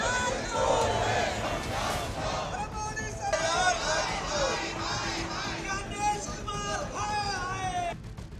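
A crowd of supporters at Rahul Gandhi's yatra shouting and chanting together, a loud, continuous roar of many voices with individual cries rising above it.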